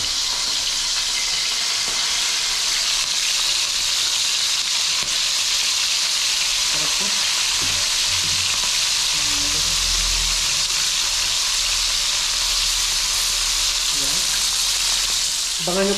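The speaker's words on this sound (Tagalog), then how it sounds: "Yan, prito na natin mga ito kasi mainit nito." Tamban fish frying in hot oil make a dense, steady sizzle and hiss that fills the whole stretch, close and loud, with faint background clatter.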